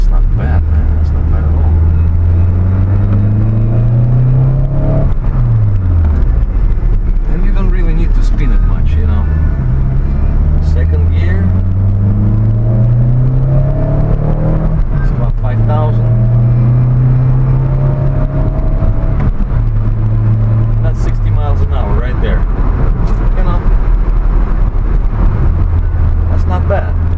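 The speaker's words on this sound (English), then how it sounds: "engine response is actually very nice as well" A 1991 Toyota Starlet GT Turbo with a 1.3-litre engine, heard from inside while driving, its loud engine drone rising and falling through several gear changes, with someone talking over it throughout.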